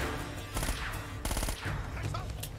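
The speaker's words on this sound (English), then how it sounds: "You down here are also trying to shoot me" Enemy gunfire in Uncharted: Drake's Fortune, with several sharp bursts of shots cracking over a busy game soundscape, moderately loud with short gaps between volleys.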